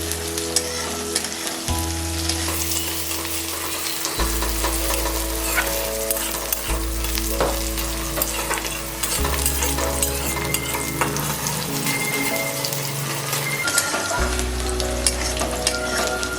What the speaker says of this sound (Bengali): হালকা ভাজা হবে, তারপর আমি এতে